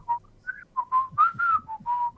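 A person whistles a series of short, wavering notes alone, in uneven bursts with brief gaps between them.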